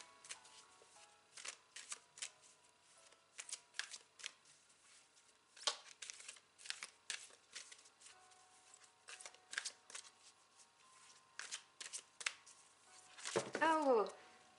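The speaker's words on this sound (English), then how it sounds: "Let me just cut my deck" A tarot deck is shuffled in a run of quick, papery riffles and taps, close and fairly quiet, ending in a louder flurry as the deck is cut.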